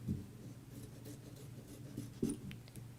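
Scissors trim printed fabric up close, giving faint, soft snips and crisp slicing strokes at an uneven pace over a low steady hum, with no talking.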